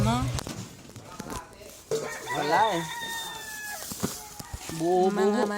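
Chickens on a small organic farm clucking, with a rooster crowing loudly and repeatedly close by, mixed in with people talking.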